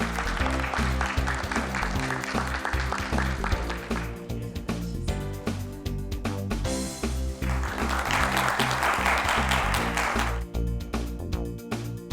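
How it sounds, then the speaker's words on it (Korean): Audience applause at an appointment ceremony, a sustained, dense clapping from a crowd that swells and stays loud for about twelve seconds with a brief dip midway. "다 같이 박수 한번."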